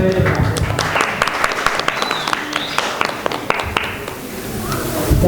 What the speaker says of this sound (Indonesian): Boleh tepuk tangan ya, Pak.